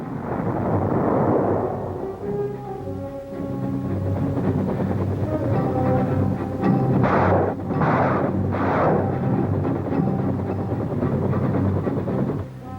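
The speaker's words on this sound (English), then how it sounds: "Air Force strikes, artillery fire, and Army gunships prepared the way." Heavy rumbling booms of artillery fire and air strikes in the jungle during the Vietnam War, continuous loud low thunder with tonal drones and a few bursts of harsher noise, no talk.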